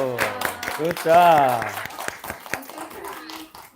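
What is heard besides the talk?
applause, clapping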